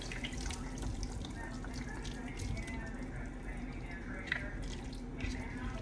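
Pineapple pieces and their juice are poured into a cooking pot. A steady, close, splashing liquid pour runs continuously, much like a running tap, with no speech over it.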